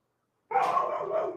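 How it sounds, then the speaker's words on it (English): A single dog bark or yelp bursting in after a moment of silence, fairly close and clear, trailing into a drawn-out whining tone. "He's barking because he smells of land."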